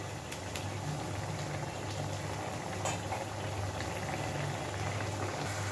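Soya keema curry simmers slowly in a pan, a steady low bubbling and faint popping that continues evenly and quietly throughout, with no voices.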